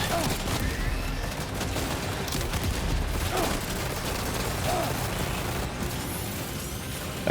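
Sustained gunfire in the video game Death Stranding 2, a dense, steady barrage of shots and booms filling the whole stretch at an even loudness, with voices faintly mixed in.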